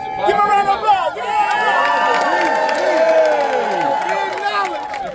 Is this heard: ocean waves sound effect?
no